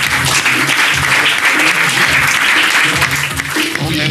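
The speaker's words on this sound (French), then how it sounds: "On l'applaudit. On l'applaudit très fort." A French TV studio audience applauds loudly and continuously, dense clapping throughout with a slight dip near the end.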